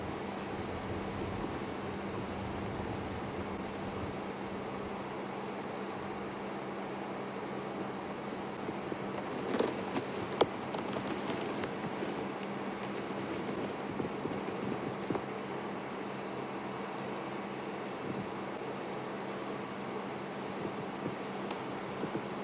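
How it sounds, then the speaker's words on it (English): Cricket chirping at night during an evening safari drive at Djuma Game Reserve, a steady regular trill in short pulses, moderately near, over a quiet hum of night ambience with a few faint rustles. "it's just us and the night sounds and that cricket that is somewhere to the left of us."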